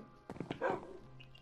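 A dog in the video game Minecraft gives a few short, quick barks and yips, soft and close, followed by a brief whimper.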